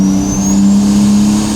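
A Nissan Stagea RS Four S car engine roars loudly and close by as it accelerates, its whine rising steadily in pitch.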